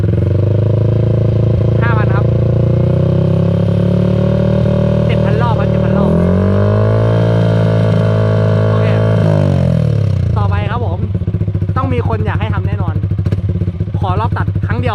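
A 2020 Yamaha YZF-R15 motorcycle engine runs loud and close, its pitch climbing through a long rev from 2,000 to 4,000 rpm and holding before dropping back, with someone talking over it.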